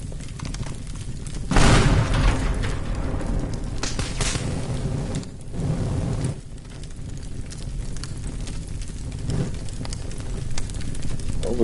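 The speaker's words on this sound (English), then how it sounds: "Obviously, it was an explosion." Explosions in the game Teardown on its ISS map, with heavy booming bursts and rumble over a noisy wash and a couple of big blasts, loud and dense.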